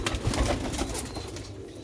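Sialkoti Ali wale pigeons coo and flap close by, a brief burst of dense, rustling wingbeats mixed with throaty calls that fades slightly toward the end.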